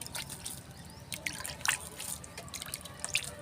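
Soft water trickles and drips in an uneven patter as water is poured onto soil in a pot, with scattered small splashes over a quiet background.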